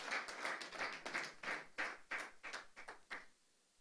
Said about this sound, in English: Please, a round of applause for our chairman